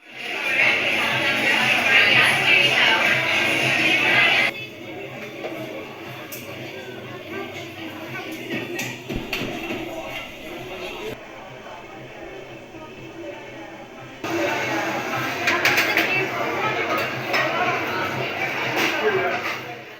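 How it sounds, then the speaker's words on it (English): Binaural recording of busy coffee shop ambience: a dense murmur of overlapping chatter, clinking dishes and clatter, rising and falling in level and briefly quieter mid-way. "a binaural recording in a busy coffee shop"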